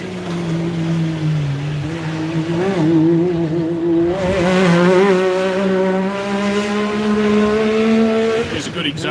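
Naturally aspirated Yamaha racing machine on a lap, its engine note climbing and falling through gear changes as it comes around close by, loud and continuous, with a commentator talking over it.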